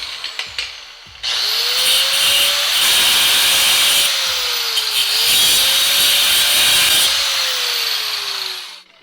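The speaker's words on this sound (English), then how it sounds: "I'm going to be using a cutoff wheel to cut these guys off" A cutoff wheel grinds through welds on a Honda CB650 motorcycle frame with a loud continuous high-pitched whine. The motor pitch dips and recovers as the blade bites into the steel, after a few short clanks at the start.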